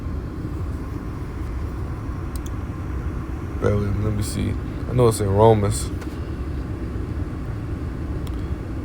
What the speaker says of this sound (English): Excuse the background noise.